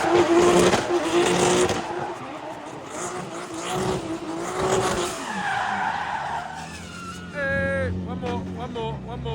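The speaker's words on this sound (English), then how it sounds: "So here's some more Fausto drifting." A Formula Drift car, a Fausto drift machine, skids with a loud, continuous engine roar through most of the run, then sharp chirping tire squeals near the end while voices talk over it.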